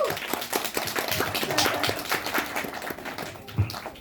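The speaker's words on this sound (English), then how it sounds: "let's have a round of applause for the author." Light, uneven clapping from a small audience at a book reading, individual claps audible rather than a full roar, with occasional louder hits.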